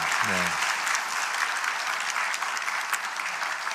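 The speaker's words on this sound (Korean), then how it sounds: "인사할 때 여러분 큰 환영의 박수 해주시기 바랍니다." Church congregation applauding in welcome during a Sunday worship service, a dense, steady wash of clapping filling the whole stretch after a brief voiced tone at the start.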